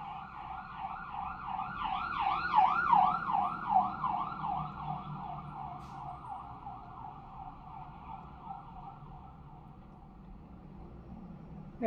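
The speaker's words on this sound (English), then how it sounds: "I'll wait for the sirens to go past." A wailing siren sweeps up and down as an emergency vehicle passes, growing louder then gradually fading into distant traffic.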